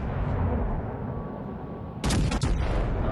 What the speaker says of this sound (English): Come on, I'll shoot one shell.